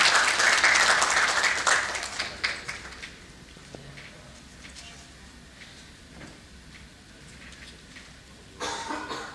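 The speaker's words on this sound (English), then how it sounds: "Can we have a huge round of applause for him?" Audience applause at a panel discussion on loan origination and lending tech, loud broadband clapping for the first few seconds that fades to scattered claps and room noise, then swells briefly again near the end.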